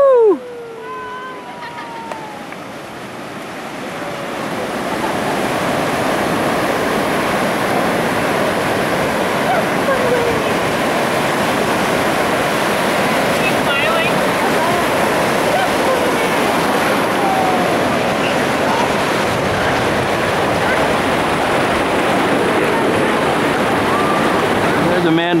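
Ocean waves and surf at Chincoteague Island on the Atlantic coast: a loud, continuous roar of breaking surf close by that swells after a few seconds, with excited voices and a cheer at the start.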